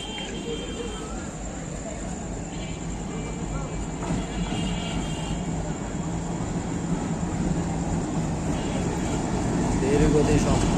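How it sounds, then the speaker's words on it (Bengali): An intercity train bound for Chilahati approaches with a broad rolling rumble and rattle that swells gradually louder over several seconds, building toward the end, with people talking nearby. "ট্রেন, এটা ট্রেন আসতেছে মামা।"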